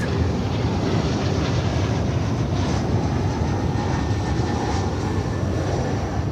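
A jet airliner departs at Dallas Fort Worth airport, a loud, steady broadband engine roar sustained throughout, heard from nearby with no talking.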